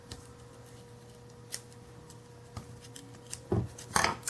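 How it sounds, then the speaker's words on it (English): Scissors trim small craft pieces for a patchwork card: a few sparse, crisp snips, with two closer, louder cuts near the end, all quiet and without talk. "And then we're going to go ahead and trim all these little pieces."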